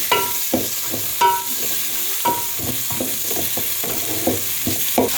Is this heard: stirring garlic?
yes